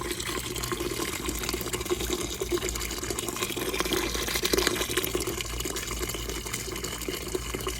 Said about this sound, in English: Coolant getting flushed.